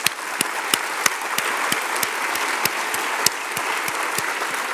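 Board meeting attendees give a round of applause, a steady moderate clapping bed with a slow, regular clap standing out close by in a steady beat.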